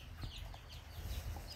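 A male Lady Amherst pheasant, a breeding bird about four years old kept in an aviary during the breeding season, gives low clucking calls with a brief higher note, faint against steady background noise and no talk.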